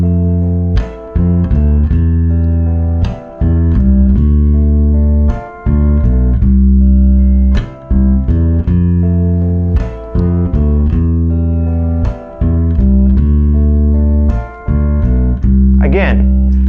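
Bass guitar plays a melodic bass line of steady, evenly spaced notes, with passing notes stepping below the chord roots to add movement, loud and close with no talking.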